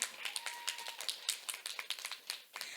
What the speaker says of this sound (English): Give her a big round of applause, Sajina.